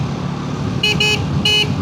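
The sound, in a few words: horn of Triumph Tracker 400 motorcycle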